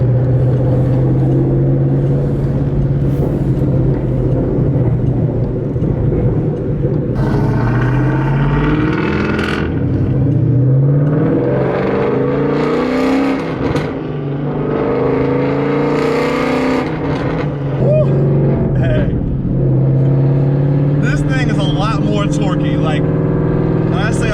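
A naturally aspirated Coyote V8 Ford Mustang accelerating hard, its loud engine climbing through revs in repeated pulls with shifts between them, heard from inside the car, with voices talking over it.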